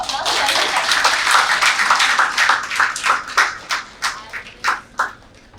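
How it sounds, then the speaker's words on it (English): Audience applauding Aman Tiwari, UPSC CSE 2024 rank 74, at a Topper's Talk classroom event: a dense burst of many hands clapping that thins into a few distinct separate claps as it dies away. "Give him a big round of applause"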